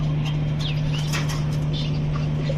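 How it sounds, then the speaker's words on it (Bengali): Red khaki racing pigeons at a pigeon seller's shop coo and chirp in short, soft calls over a steady electrical hum, heard close by. "লাল খাকি কবুতর।"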